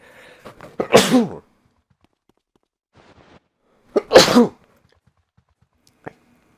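Two sharp, loud human sneezes spaced a few seconds apart, each with a brief intake beforehand, in an otherwise quiet room, followed by a small click.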